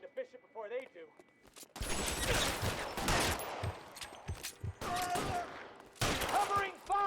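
Rapid gunfire bursts in the video game L.A. Noire, loud and dense after a quieter spoken start, with shots repeating in fusillades and voices shouting over the shooting.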